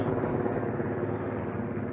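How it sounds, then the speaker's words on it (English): A helicopter's steady, dense rotor and engine roar fills the moment, continuous and fairly loud with no voices over it. "sending off another chopper now to Ipswich"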